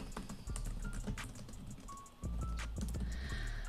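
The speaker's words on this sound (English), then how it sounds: "we're going to come over here to Instagram and just type away" A computer keyboard clatters as a social media post is typed, with irregular quick key taps and occasional pauses, close and clear with no talking.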